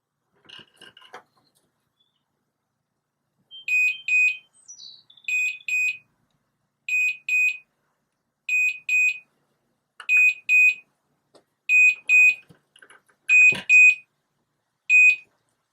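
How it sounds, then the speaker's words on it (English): A GM-434RTL wireless garage door monitor sounds a zone alert as a series of sharp, high electronic beeps, mostly in quick pairs repeating at regular intervals, clear and close in a quiet room. "you'll know what zone it is by the series of beeps"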